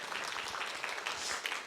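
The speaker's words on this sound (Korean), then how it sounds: "우리 경례의 박수 한번 하겠습니다" A church congregation applauding, a dense, even patter of many hands clapping throughout the short stretch, fairly close and without talk.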